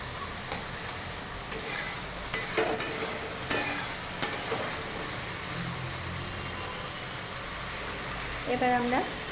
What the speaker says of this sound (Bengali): এবার আমরা একটু নাড়াচাড়া করে সামান্য পরিমাণ একটু জল অ্যাড করে দিচ্ছি